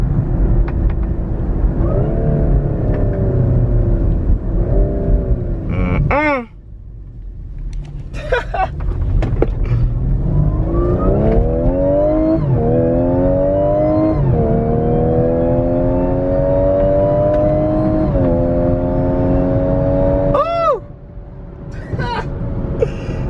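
Supercharged Audi tow rig engine revving hard through several rising pulls with automatic paddle downshifts and brief lifts between, loud and close from inside the cabin.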